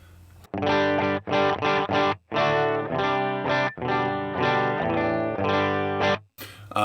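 Electric guitar played through a Line 6 Helix amp with its original dual cabs and some overdrive, a loud run of strummed chords and short bursts with brief gaps, ending abruptly.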